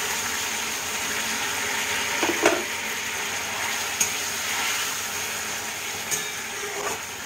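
A steady, hissing sizzle as a little water is added to fried fennel spice paste in oil for a koi fish curry, with a few faint clinks and stirring sounds over the constant frying.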